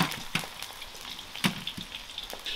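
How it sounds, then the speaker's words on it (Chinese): Pork ribs fry in oil in a wok with scattered, irregular pops and crackles over a low sizzle, heard up close with no talking. "现在锅头来点油哈，然后把那个排骨放下，给它煎起来"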